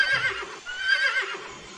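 A horse neighs in the Mystery Case Files video game: a bright, wavering whinny carried over nearly two seconds, fairly close and loud, with soft shuffling beneath and no talk.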